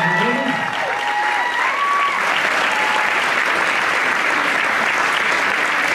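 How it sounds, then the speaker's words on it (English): Sustained, dense applause from an audience at a professional New Vogue dance final greets the professional dance couples, loud and steady for the whole stretch with a few voices briefly rising early on. "Please give them a round of applause."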